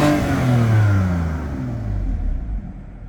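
A 2018 BMW M4 Ultimate Edition with titanium M exhaust set to quiet mode, revving in neutral: a loud, close engine note that swells, then drops away as the revs fall back toward idle, with no talking.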